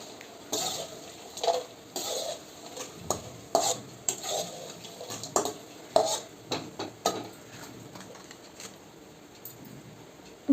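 Frying nimki being stirred in hot refined oil in a pan with the flame off. Irregular scrapes and clinks of the spoon against the pan rise over a soft bubbling hiss, fairly quiet and close.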